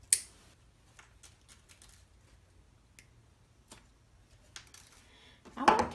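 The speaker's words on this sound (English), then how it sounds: "I'm going to go ahead and cut some pieces of this floral wire to have handy" Floral wire snipped into pieces with cutters, producing scattered sharp, quiet clicks and snaps spaced irregularly over a near-silent background, then a louder rustle at the end.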